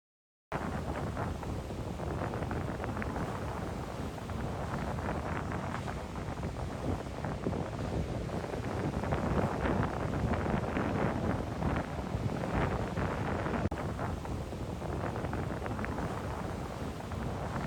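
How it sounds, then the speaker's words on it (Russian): Strong stormy wind on the coast at Olympic National Park roars continuously and buffets the microphone, a loud, steady rushing that barely lets up from start to finish. "Здесь такой сильный ветер, такой сильный шторм"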